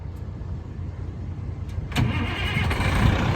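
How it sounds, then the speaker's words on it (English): A Caterpillar C11 diesel engine in a 2006 Kenworth T800 rolloff truck cranks and catches about halfway through, then settles into a loud, rough idle close by. "has a Caterpillar C11 that starts right up, sounds great, you can hear that now"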